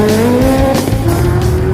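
A car driving hard in a brake-testing speed-and-stop challenge, its engine roaring loud and close with squealing tires throughout, a steady, intense burst lasting just under two seconds.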